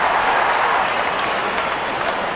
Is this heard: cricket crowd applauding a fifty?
yes